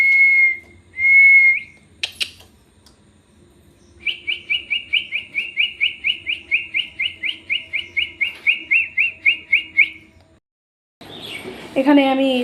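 A person whistles in imitation of a bird: two clear sustained notes, a brief squeak, then a long run of rapid rhythmic warbling chirps, close and loud, ending in a burst of breathy noise.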